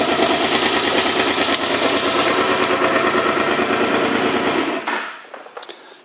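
A 2013 Suzuki Boulevard C50T cruiser motorcycle with 4,800 miles idles close up, its steady rapid loping thump holding for almost five seconds before the engine cuts off and a few faint clicks follow.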